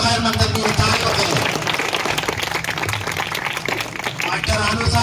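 Audience applause at the prize distribution of a pigeon flying tournament, a dense steady clatter of many hands close by with voices mixed in throughout.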